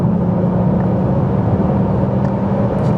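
A Mercedes GLA250e plug-in hybrid accelerates hard in sport mode, giving a steady, loud drone with a low engine hum and road rumble throughout, close and without speech.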